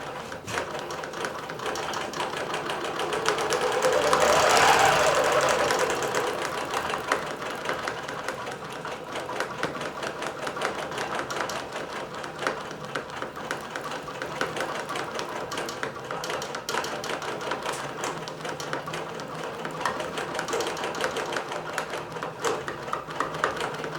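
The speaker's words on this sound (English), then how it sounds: "the machine does a smaller stitch for like the first 10 stitches" A computerized quilting sewing machine stitching steadily, a dense continuous mechanical whir and rapid needle chatter that swells briefly near the start and then holds an even, close, loud drone without speech.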